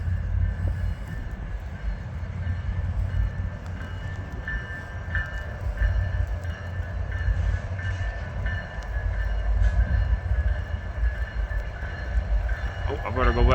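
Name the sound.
train rolling through in snow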